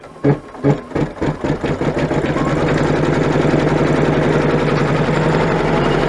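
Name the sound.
embroidery machine stitching coin purse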